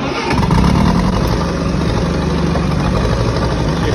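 An old Ferguson tractor engine on a farm fires into life and settles into a loud, close, steady idle.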